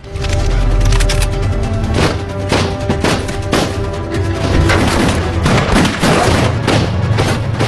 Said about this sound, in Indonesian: itu berhasil menemukan Max hingga terjadi aksi tembak-tembakan